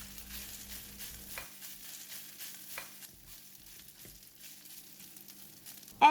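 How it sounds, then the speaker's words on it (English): Rice stir-frying in an oiled pan for pineapple fried rice, being spread around with a spatula: a soft sizzle with scraping strokes and occasional light spatula taps, close and quiet, no talking. "Add in all the rice and spread it around the pan to get the heat."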